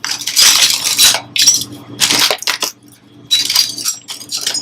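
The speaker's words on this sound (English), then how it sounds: "make sure that the bottom side of the spoons go into the container first, and that the handles are facing up" Metal spoons dropped handle-up into a container at a sandwich station, several bright clattering bursts of clinking metal arriving in quick clusters with short gaps between them.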